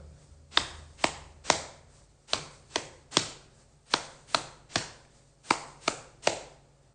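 Hands tap a rhythm on the knees, giving about thirteen crisp, close slaps in a steady pattern of grouped beats with short pauses between them, and nothing else is heard.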